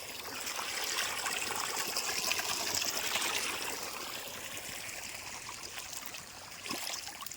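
Water runs steadily through an irrigated sugarcane field, a soft continuous wash and trickle heard alone at moderate level, easing slightly toward the end.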